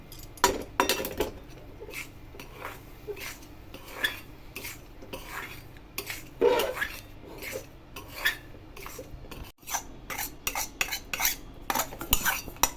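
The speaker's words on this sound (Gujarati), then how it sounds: "બંધ કર્યા પછી જ અંદર ગોળ એડ કરવાનો છે। મિક્સ કરી દઈશું।" Roasted millet flour being mixed with jaggery in a pan off the heat, a spoon scraping and clinking against metal in quick irregular strokes up close, with no voices.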